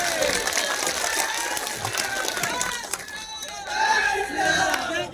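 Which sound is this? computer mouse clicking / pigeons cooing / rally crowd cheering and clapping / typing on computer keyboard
rally crowd cheering and clapping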